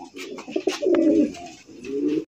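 Baghdadi pigeons at a pigeon farm coo repeatedly, a male calling in throaty, rolling bursts that come close and clear, with short pauses between phrases and no talking.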